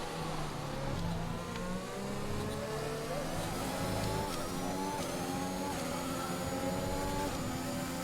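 An F1 2021 video game race car at the Mexican GP closes on an Alfa Romeo back marker. A loud, continuous engine whine with stepped gear changes runs throughout, alone without talk.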